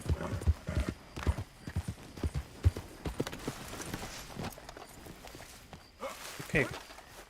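Horse hooves walking in Red Dead Redemption 2, a series of clopping steps up close with a brief whinny, while people talk over them.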